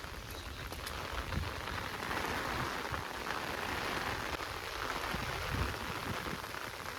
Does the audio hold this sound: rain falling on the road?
yes